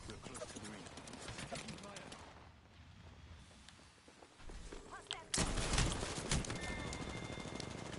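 Gunfire in a battle royale video game, a rapid mix of shots and impacts, steady and fairly close, with a louder burst of firing in the second half.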